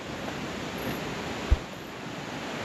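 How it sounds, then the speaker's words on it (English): A river in the Colombian jungle gives off a steady broadband rush of flowing water, continuous and fairly loud, with a faint soft thump partway through and no voices. "Let me show you the river."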